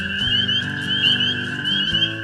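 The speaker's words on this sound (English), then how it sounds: "Sit back and listen to the frogs." Frogs and toads call in an evening chorus, steady trilling and croaking voices overlapping continuously, close and fairly loud with no talking.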